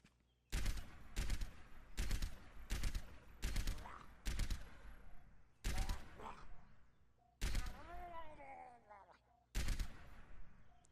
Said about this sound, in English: This murloc makes its signature gargling noises when it's shot.